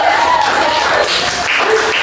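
A ninth-grade class in an Indonesian microteaching lesson claps for a classmate, loose and fairly close, mixed with overlapping voices.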